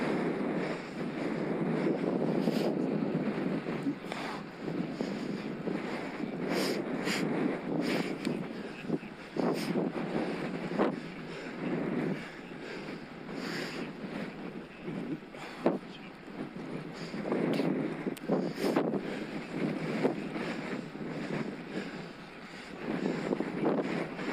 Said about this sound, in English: I'm into a headwind, 19 miles an hour.